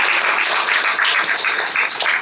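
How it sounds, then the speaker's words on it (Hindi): A church congregation claps together in praise during a Hindi worship service, a dense, steady wash of many hands close by, sustained loudly throughout without any voices on top. "प्रभु की महिमा के लिए ताली बजाते हैं।"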